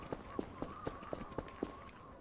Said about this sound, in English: Did I just hear more footsteps?